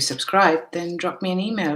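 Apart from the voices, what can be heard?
None of the usual background noises is heard.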